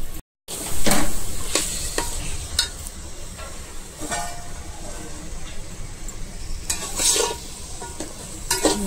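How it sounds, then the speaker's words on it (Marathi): Fried eggs being stirred into a sizzling masala for egg biryani, with steady frying hiss and repeated spoon scrapes against the pan. No one speaks. "तर ते आता आपल्याला टाकायचे आहेत मसाल्यामध्ये"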